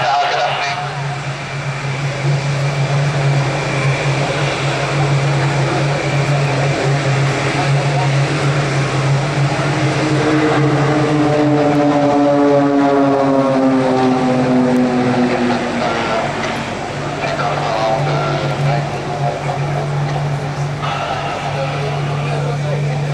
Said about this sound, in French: Et regardez les ailes du Hawkeye se replier.